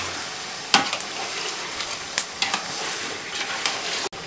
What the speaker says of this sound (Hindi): इसको अच्छे से हमने इसमें फ्राई करना है, गोल्डन ब्राउन करना है